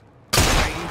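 A single gunshot in the video game Assassin's Creed Syndicate, a sudden loud close blast after a quiet moment, its tail ringing on briefly.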